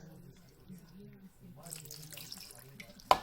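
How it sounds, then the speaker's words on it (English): Water pours and splashes into a pan of pakora mixture, a soft steady running sound joining a low hum and ending in a sharp clatter. "I'm going to add a tad of water."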